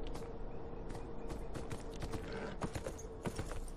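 Horse hooves clip-clop steadily in the Beyond Two Souls video game, a run of close, rhythmic hoof strikes over a constant low game ambience, with no talking.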